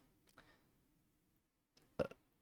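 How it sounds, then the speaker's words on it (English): A single short burp, close and soft, following a faint earlier throat sound in an otherwise quiet room. "One last burp."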